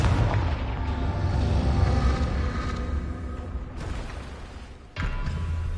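Confringo explosive spell blasts boom out in Hogwarts Legacy, a rumbling, sustained explosion that fades and then a fresh blast bursts in near the end, with no talk.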